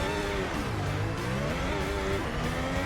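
A Ferrari Formula 1 car in a VR racing game on the Nordschleife roars past, its engine note rising and falling in a loud, continuous whine with shifting pitch.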